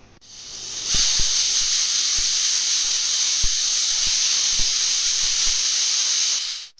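A pressure cooker whistle releases a loud, steady high-pitched hiss of steam for about six seconds while moong beans boil, with a few faint clicks underneath, then cuts off.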